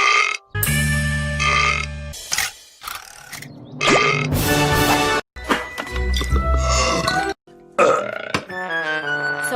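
A cartoon female character lets out a run of long, loud, gurgling burps with short silent gaps between them, mixed with brief creaky and squeaky sound effects.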